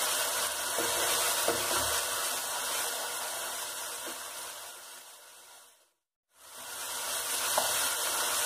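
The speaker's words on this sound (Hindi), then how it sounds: "अब इसमें डाल देंगे कसूरी मेथी, इसको मिक्स करेंगे।" Dried fenugreek leaves, kasuri methi, sizzle in hot fat in a pan for shahi paneer, a loud continuous hiss with a few light stirring scrapes, briefly cut to silence before resuming.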